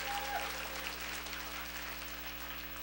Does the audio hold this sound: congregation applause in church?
yes